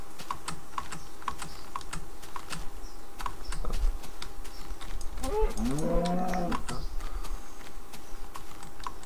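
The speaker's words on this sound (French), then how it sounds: "je vois que les vaches sont à proximité" A cow moos once in the Minecraft video game, a short drawn-out low call midway through, over steady rapid computer keyboard typing.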